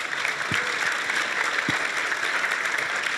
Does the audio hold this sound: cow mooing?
no